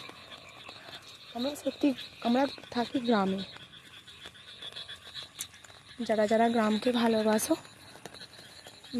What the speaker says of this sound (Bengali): ব্যাঙের ডাক শুনতে পাবেন আপনারা